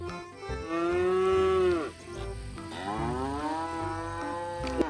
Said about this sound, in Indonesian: Wadidaw, ternyata di dalamnya ada sapi belang teman-teman.